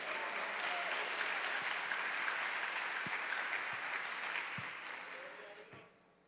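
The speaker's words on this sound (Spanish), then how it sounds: "Denle un aplauso al Señor" A church congregation at a Spanish-language sermon gives sustained applause to the Lord, dense and fairly loud clapping from many people filling the room, with a few sharper claps standing out before it fades away at the end.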